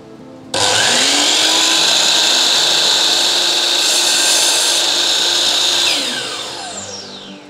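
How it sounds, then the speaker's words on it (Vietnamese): A Dewalt DWS780 sliding compound miter saw bites into a wooden board, a loud abrupt whine and cutting roar held for about five seconds before winding down, with no voices. "Thì bây giờ mình sẽ tiến hành cắt cho các bạn xem."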